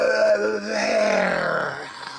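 A person yawns while trying to talk, producing a drawn-out, groaning vocal sound that slides downward and fades over about two seconds, close and fairly loud.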